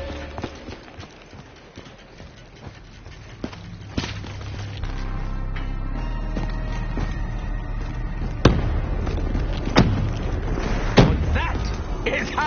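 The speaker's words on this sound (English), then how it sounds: "we do explosions in space!" Game explosions in space from Borderlands 3, a run of sharp cracking bursts over a steady low rumble, with several louder blasts near the end and voices mixed in.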